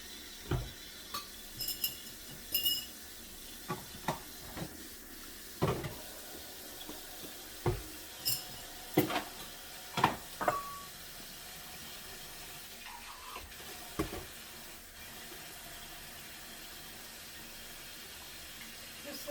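Quick hand-washing of a few cups, a bowl and silverware under running water at a sink, with scattered clinks and splashes over a low faucet trickle, fairly quiet and close.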